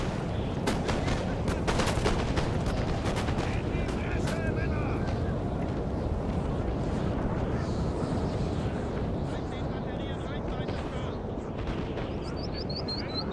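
Musket volleys crackle through a Napoleon: Total War online battle, with dense bursts of gunfire early on that settle into a steady wash of distant battle noise while a player talks over it.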